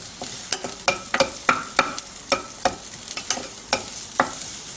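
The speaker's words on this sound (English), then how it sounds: "they're all starting to sizzle nicely" Garlic sizzles and crackles in a pot, with sharp irregular pops and spits over a steady hiss, close by.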